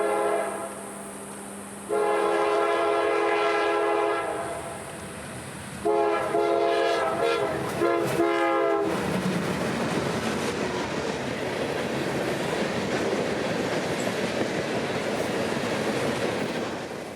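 Local freight train L738 led by a vintage pair of -8 and -9 diesel locomotives, two long horn blasts sounding loud and close, then a steady rolling rumble and wheel clatter as the cars pass.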